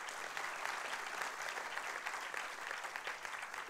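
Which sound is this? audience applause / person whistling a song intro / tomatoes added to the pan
audience applause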